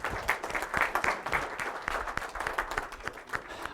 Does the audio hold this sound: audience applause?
yes